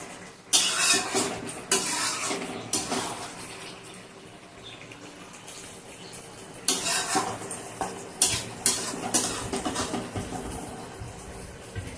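A spoon stirs and mixes chicken curry in a pot, giving clustered scraping and clinking bursts with soft sizzling between them, close and fairly loud, with no talk.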